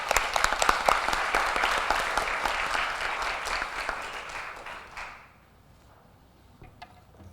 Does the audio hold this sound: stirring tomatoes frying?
no